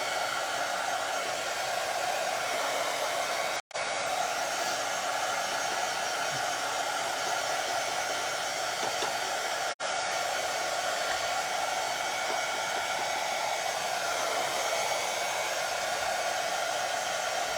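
A hair dryer runs steadily while drying paint on a faux-ceramic craft pumpkin, a loud close whir that stops twice for a split second and then resumes.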